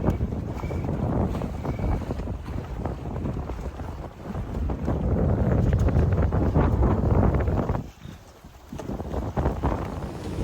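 Strong wind buffets a sailboat beating upwind through a channel at about five knots, a loud continuous roar with gusty rushes and a brief lull near the end.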